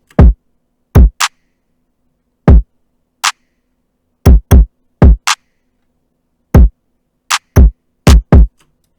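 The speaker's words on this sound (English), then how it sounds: "the kick and the clap together are going to sound like this" Hip-hop beat of a deep electronic kick drum and a sharp, snappy clap sample playing together, the booming kicks in a syncopated pattern with crisp claps landing between them, loud and dry with nothing else.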